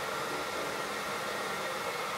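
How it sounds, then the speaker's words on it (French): A hair dryer blowing steadily as wavy hair is dried, a constant close whooshing hiss with no breaks. "Je vais sécher tout ça vite fait, juste histoire que ça soit sèche."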